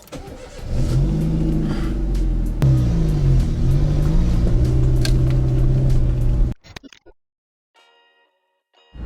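A Renault car drives with a steady, loud engine rumble and some revving for about six seconds, then the sound cuts off abruptly to near silence with a few faint ticks.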